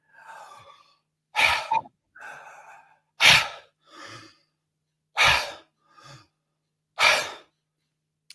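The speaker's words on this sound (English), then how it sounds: "So deep through the belly, and then up to the chest, and then out like a wave." Deep breathwork: slow belly-to-chest inhalations alternate with long, forceful exhalations released like a wave, several cycles close and alone in a quiet room.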